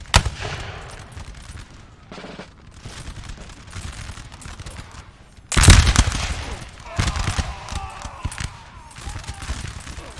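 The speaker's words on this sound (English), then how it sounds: "They're firing a volley." Musket volley fire in the Napoleon: Total War multiplayer battle, a dense crackle of scattered shots with a sudden loud volley burst midway followed by more ragged firing.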